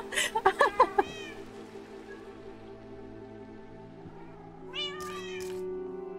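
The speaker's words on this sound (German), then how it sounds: "Katzen machen Randale." Several cats in a Minecraft game meow in a quick burst of five or six rapid calls, then fall quiet before two more meows near the end, all over a soft sustained background music bed.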